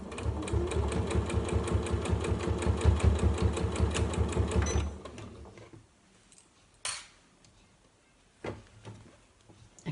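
A sewing machine stitches a seam on a fabric tote bag with a fast, steady mechanical chatter for about five seconds, then stops, leaving a few quiet clicks and handling sounds.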